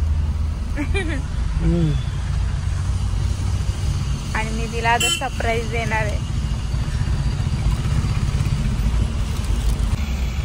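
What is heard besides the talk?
road traffic noise with cars and motorcycles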